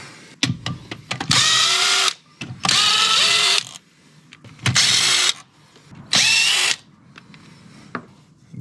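A power tool removing gearbox bolts on a Nissan S13/180SX/240SX, heard as four loud, close whirring bursts of about a second each, with metallic clanks and handling noises in the gaps between them.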